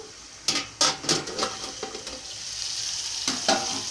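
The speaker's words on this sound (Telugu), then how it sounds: "బాగా మగ్గుతూ ఉన్నాయి ఆయిల్లో" Bottle gourd pieces cooking in oil with salt, chilli and turmeric, with a few scraping stirs of a spoon in the pan at first, then a soft, steady sizzle alone.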